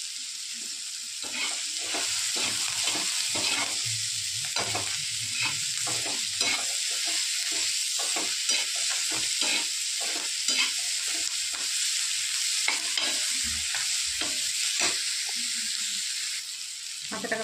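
Onion and tomato with a little salt fry in a pan, giving a steady close sizzle broken by repeated scraping stirs of a spoon against the pan.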